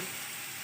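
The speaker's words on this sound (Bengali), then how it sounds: "কালো জিরা দিলাম," Black cumin seeds spit and sizzle in hot oil in a home kitchen pan, a brief, dense frying hiss heard close and alone.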